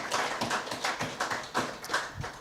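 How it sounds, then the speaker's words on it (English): Symposium audience clapping in a hall, a modest, fairly quiet burst of hand claps with an uneven rhythm, sounding like a smaller group rather than a large crowd. "I want us to give them a very big hand clap"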